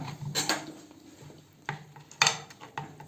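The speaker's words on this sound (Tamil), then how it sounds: "இப்போ இதை வந்து நல்லா கலக்கி நம்ம இது பண்ணிக்கலாம்." Anchovy gravy with dried fish being stirred in a metal pot, giving a few separate scraping, clinking knocks of the utensil against the pot with quiet pauses between them, close and moderately loud.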